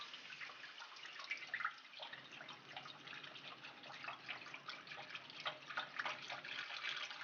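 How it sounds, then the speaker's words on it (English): Broth poured from a carton into a wide paella pan, a steady splashing, trickling stream with brief gurgles, close and fairly quiet, running the whole time with no talking. "I'm going to add my broth and scrape up the edges and the little bits into the broth."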